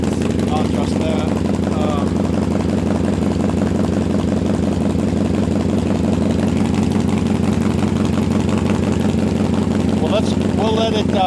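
Up close, a motorcycle engine idles steadily as it warms up on a day in the 50s, a constant low rumble throughout with a brief mechanical click near the end.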